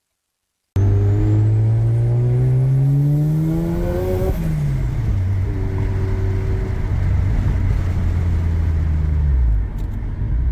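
Turbocharged Mazda RX-8 rotary engine while driving: a loud, close engine drone climbs in pitch under acceleration, drops at a shift, then holds a steady cruising tone before easing off near the end.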